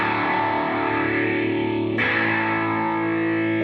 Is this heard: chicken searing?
no